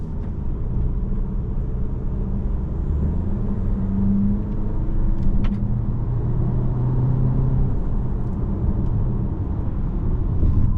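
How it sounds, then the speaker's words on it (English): A 2025 Volkswagen Tiguan SEL R-Line compact SUV is driven in sport mode, its engine a steady low rumble under road and tyre noise heard from inside the cabin, with no talking. "You're getting more of a throttle response out of the engine in sport mode."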